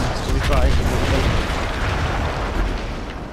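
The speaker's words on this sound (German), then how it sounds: "Diese Explosion war für mich einer der schönsten Anblicke des ganzen Krieges." An explosion in the World War I shooter Battlefield 1, set in Italy: a loud, rolling blast-rumble that swells early and stays heavy and dense throughout, slowly easing off toward the end.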